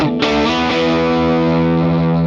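A sustained synth tone runs through a saturate distortion effect with the drive turned up, giving a thick, buzzy, harmonically rich sound that holds steady and loud for a couple of seconds with no talking.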